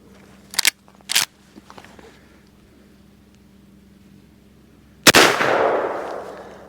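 A .357 Magnum 16-inch carbine fires 158 grain Hornady XTP rounds in a single loud, sharp report that rings out and decays over about a second and a half, preceded by a few handling clicks.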